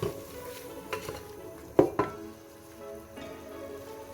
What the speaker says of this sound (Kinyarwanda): Nyanya iyo umaze kuzishyiramo uravanga, hano ugashyiramo n'umunyu